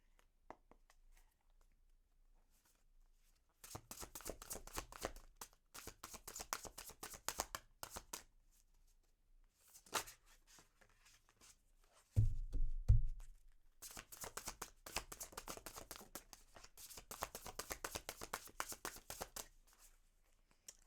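Tarot cards shuffled close up in several bursts of rapid riffling and rustling, separated by quiet pauses, with a couple of heavier thumps in the middle as the deck is squared, no talking.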